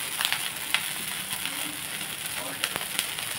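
Ragi uttapam frying on a pan, a steady sizzle with small crackles and pops, close and continuous.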